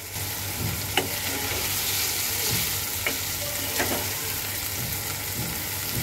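Loita fish fry in a pan with a steady close sizzle, broken by a few sharp clicks of stirring or turning.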